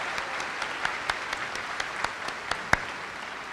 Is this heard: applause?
yes